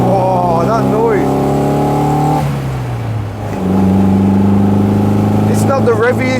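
A classic MG MGA sports car engine drones and revs through the gears, its pitch climbing, dropping at a shift, then pulling again, with a voice speaking over it.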